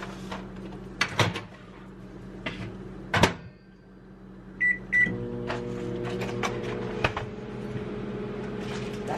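A microwave oven reheating leftover buffalo chicken pasta in a motel room, with a steady low hum and a few beeps, plus cupboard and door clicks and knocks nearby.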